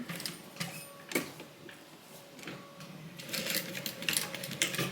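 A sewing machine stitches a Bible cover in short mechanical bursts of rapid clatter separated by brief pauses, close and fairly quiet, with the rhythm picking up toward the end.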